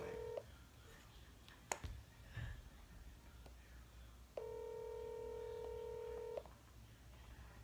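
A phone dialing a call: a short tone, a faint tap, then a long steady ringback tone that holds for about two seconds before stopping, heard close against quiet room hiss.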